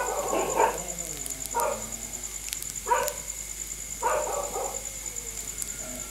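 A dog barks outdoors in Turkey, four or five separate barks and yips spaced about a second apart at moderate distance, over a steady high electrical hum.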